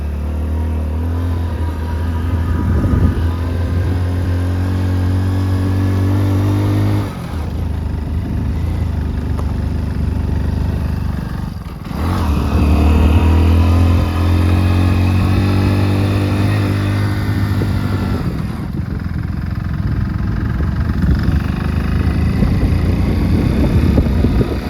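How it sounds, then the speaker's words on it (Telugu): A motorcycle engine labours steadily up a steep hill at Koheda Gutta, a loud, continuous, close drone that dips briefly twice, with wind buffeting the microphone throughout. "బండి ఎక్కుతలేదు కొండ"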